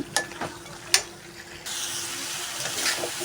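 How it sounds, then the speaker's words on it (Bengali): Broth poured into chicken cooking in a pan for morog polao: a few stirring clacks and scrapes at first, then a sudden steady rush of liquid hissing and bubbling that continues close and fairly loud, with no talk. "আমার মাংসটা রান্না করা হয়ে নিচ্ছে সুন্দর করে কষে নিয়ে এবার ঝোল দিয়ে দেবো"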